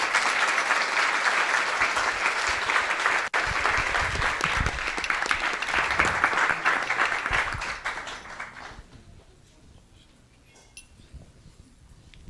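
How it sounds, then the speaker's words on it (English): Sustained audience applause at a Vyasa Puja celebration, loud, dense clapping for about nine seconds, then fading out to near quiet. "let's give him a big round of applause for that"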